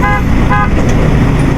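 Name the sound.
car horn honking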